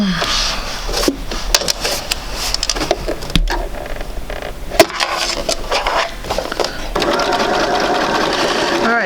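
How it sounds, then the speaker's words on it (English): Sewing machine stitching a quarter-inch seam on quilt pieces, a close, steady mechanical whir and rapid needle clatter running throughout, with brief pauses and restarts; someone talks over it. "let's go back and sew it a 1/4 inch on this side and a 1/4 inch on that side"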